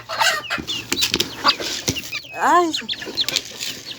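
Pet chickens cluck and squawk at close range during feeding, with a rustle of flapping wings and a brief spoken exclamation.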